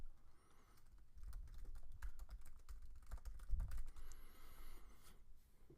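Steady computer keyboard typing with quick irregular keystrokes, fairly quiet and close, continuing alone without any talk throughout.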